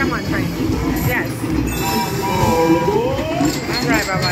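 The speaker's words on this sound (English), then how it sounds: "Come on, train." A train rumbles past with rolling rail noise and faint wheel squeals, heard up close under voices talking over it.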